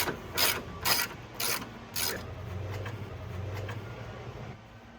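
Ratchet wrench clicking in several quick bursts on headlight housing screws of a 2014 Toyota Tacoma, close and fairly loud, followed by softer mechanical handling noise and a low hum.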